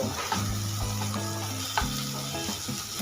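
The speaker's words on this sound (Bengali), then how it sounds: "পেঁয়াজ টমেটোটা হালকা ভেজে নেব" Chopped onion and a medium tomato lightly frying in a pan, a close, even sizzle broken by a few stirring knocks, with no voices.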